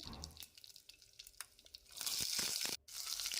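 Chopped onions sizzle in hot oil along with mustard seeds, curry leaves and dried red chillies, a fizzy hiss that swells loud and steady in the second half with a few soft pops and drips, no voices.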